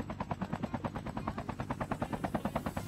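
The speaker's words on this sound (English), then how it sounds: "Yeah, you see the chopper there?" A helicopter in the Call of Duty Mobile video game thumps with rapid, even rotor beats, held at moderate distance and fairly quiet, with no talking over it.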